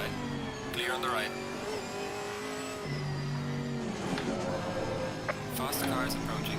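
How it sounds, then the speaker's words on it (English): Mixed-class race cars thunder past in Assetto Corsa Competizione at Bathurst's Mount Panorama, engines revving and sweeping through gear changes in a loud, continuous blur with brief tire squeal, while a voice talks over the racing. "Faster car is approaching."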